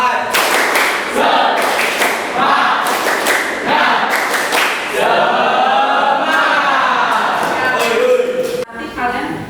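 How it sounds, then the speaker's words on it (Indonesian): A group does an Indonesian spirit clap in a classroom, sharp rhythmic clapping in quick bursts and patterns, with voices chanting along between the claps. "Tepuk semangat."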